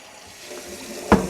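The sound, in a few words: hot water running over a plastic bucket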